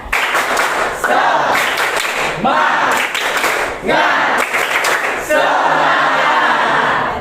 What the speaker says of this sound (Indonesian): Kita tepuk semangat dulu biar semangat semua.